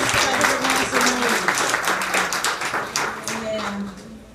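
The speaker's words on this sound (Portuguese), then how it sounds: "Uma salva de palmas para Deus." A church congregation bursts into applause to praise God, with many hands clapping at once and fading gradually, while a voice speaks over the clapping.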